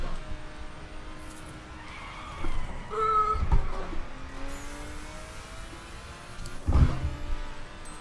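A car in The Crew video game, with engine drone, shifting tones and tire skids as it takes a corner, plus two short thuds, heard moderately loud with no talking.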